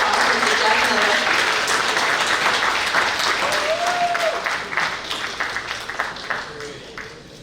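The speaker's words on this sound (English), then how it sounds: "Please give a round of applause for Mr. Jeff Miller." An award banquet crowd breaks into loud, dense applause that gradually fades. Voices carry faintly underneath the clapping.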